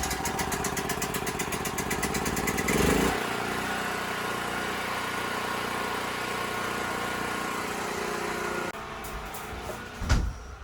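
A portable generator, fuelled and choked, starts up outside away from a house and runs at a steady, loud mid-pitched drone before quieting and cutting off near the end; no talk.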